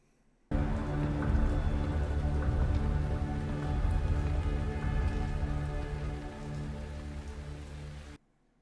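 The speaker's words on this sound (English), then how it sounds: "Look, there's rain" Steady, dense rain pours down in a TV drama scene, loud and even throughout, starting abruptly and easing slightly toward the end before cutting off.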